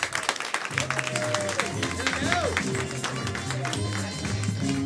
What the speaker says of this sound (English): Clap for Eliana, everyone.